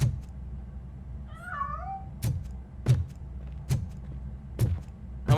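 A cat in RoboCop: Rogue City lets out a single drawn-out meow. Sharp, regular thumping impacts follow as heavy footsteps, over a low rumbling backdrop.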